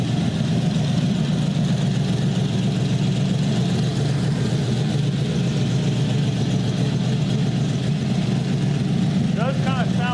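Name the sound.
truck engine idling with VEVOR camshaft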